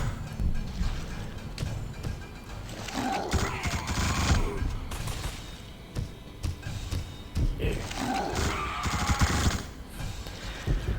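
Bursts of gunfire as enemies are shot in The Suffering on PS2, two loud clusters of rapid shots over a rumbling game soundscape with quieter gaps between.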